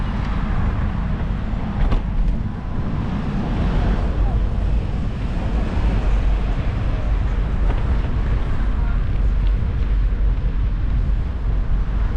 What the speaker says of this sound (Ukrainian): вітерець дує ну, такий освіжаючий, прикольний